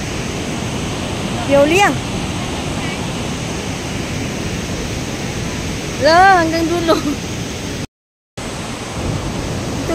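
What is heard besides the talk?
waterfall at Shenxian Valley, Miaoli, Taiwan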